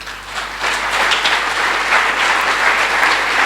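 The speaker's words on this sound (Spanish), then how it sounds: "Denle un fuerte aplauso al Señor." A church congregation bursts into loud, sustained applause during a Spanish-language sermon, dense clapping swelling after a brief quieter start and holding steady throughout, with no talking over it.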